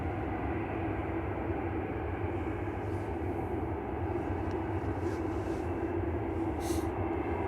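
An EasyJet airliner taxiing at Manchester Airport, heard as a steady, continuous low engine rumble and roar that holds at an even level throughout, with faint voices occasionally showing through the noise.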